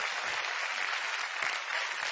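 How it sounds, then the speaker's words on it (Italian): An audience applauds with steady, even clapping from a crowd that stays consistent throughout, heard on its own without any talk over it. "quando parli alla gente arrivano gli applausi"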